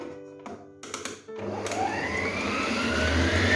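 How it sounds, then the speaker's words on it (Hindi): An electric beater whirs steadily through orange chiffon cake batter as sugar is beaten in, starting after a few light clicks and taps and rising into a continuous buzzing drone that grows gradually louder. "हम इसमें पहले 1 टेबलस्पून ऑफ शुगर डालेंगे और इसको बीट करेंगे।"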